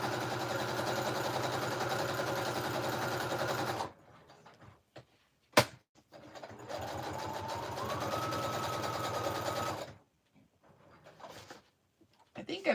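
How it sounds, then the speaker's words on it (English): A home sewing machine, one with an unreliable reverse stitch, runs in two steady motorized bursts of about four seconds each, with a sharp click between them and quiet pauses of handling noise. "I think I broke my sewing machine, you guys."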